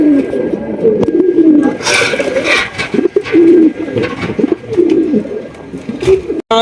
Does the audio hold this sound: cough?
no